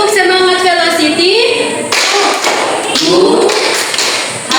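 A classroom group performs a rhythmic clapping routine, sharp claps landing in bursts alongside loud voices chanting and talking throughout.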